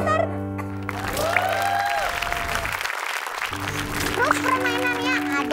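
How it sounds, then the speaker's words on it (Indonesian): A studio audience at a children's Independence Day competition show gives steady applause. The clapping runs throughout, mixed with voices and tonal sounds. "tepuk tangannya dong"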